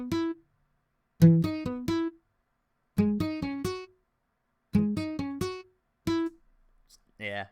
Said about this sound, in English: just a mute guitar, just like you're plucking it muted, and it sounds like this.